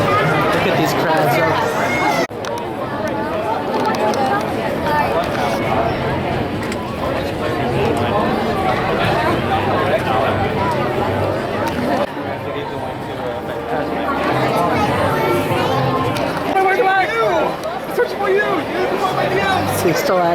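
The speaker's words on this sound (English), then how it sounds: "Look at these crowds." Dense crowd chatter fills the park area outside Muppet Vision 3D on its final day, a steady, close hubbub of many overlapping voices with occasional footsteps, continuous throughout.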